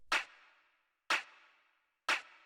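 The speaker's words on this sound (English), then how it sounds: "but still very like earthy and analog sounding clap." A hard-hitting, earthy analog-style clap sample for house music fires three times at even one-second intervals, each a sharp crack with a short decaying tail, isolated against silence.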